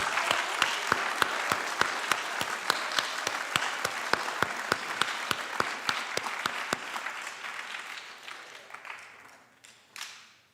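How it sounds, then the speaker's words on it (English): A school academic awards ceremony audience for a high school freshman class applauds, a dense sustained crowd clapping that carries strongly for several seconds, then thins out and fades, with one last brief burst of claps. "give everybody here a round of applause for the work they've done so far this year."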